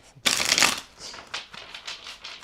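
Tarot cards being shuffled: a loud, dense riffle burst, then a series of softer, rhythmic card flicks and slides close by, with no voice.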